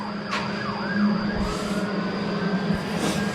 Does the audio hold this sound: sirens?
yes